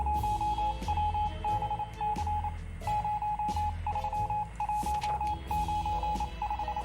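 An in-game telephone call in the video game 60 Seconds Reatomized, heard as a steady run of repeated electronic tonal beeps with short breaks, loud and close, with no talk over it.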